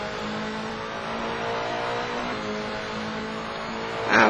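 A Skoda race car engine roaring steadily during a GRC race at Donington, a dense, sustained drone that swells louder at the end.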